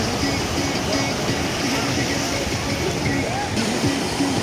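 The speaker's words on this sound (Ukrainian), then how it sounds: "Хвилі сьогодні." Sea waves on the beach at Golem, Albania, a constant dense wash of surf and sloshing water, loud and close throughout, with faint voices under it.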